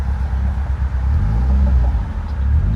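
A car engine rumbles inside a tunnel, producing a loud, steady, deep drone that echoes for a few seconds with no speech over it.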